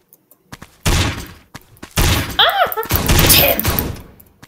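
Pistol gunfire in a video game, with sharp shots popping in quick clusters among thuds and game effects, plus a short rising and falling electronic tone partway through.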